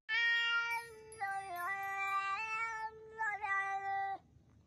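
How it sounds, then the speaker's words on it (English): A singing cat meows in long, sustained tones that slide between pitches, loud and close, as one continuous wavering phrase lasting about four seconds before stopping. "And I'm a singing cat."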